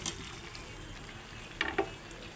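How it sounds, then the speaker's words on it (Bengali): Potatoes fry in a spiced mutton curry masala with a quiet, steady sizzle. Two brief spoon scrapes stand out near the end, and there is no talking. "আলুগুলো দিয়ে আর এক মিনিট কষিয়ে নেব"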